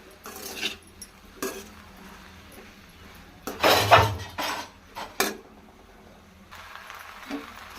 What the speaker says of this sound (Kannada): ಮಿಕ್ಸ್ ಮಾಡಬೇಕು ಚೆನ್ನಾಗಿ ಮಿಕ್ಸ್ ಮಾಡಬೇಕು ಈ ಥರ ಇದನ್ನು.